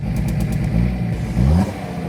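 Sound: BMW E30 324d diesel engine running like an old tractor

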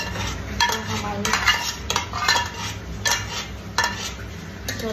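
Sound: stirring amaranth (chaulai) into sugar syrup

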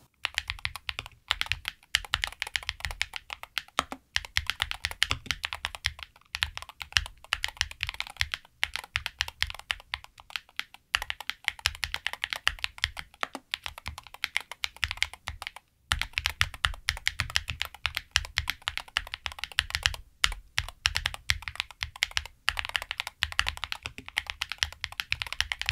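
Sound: typing on Pulsar PCMK 2HE TKL keyboard, Gateron switches

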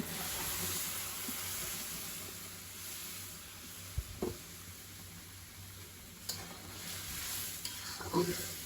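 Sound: curry with potatoes sizzling while being sautéed

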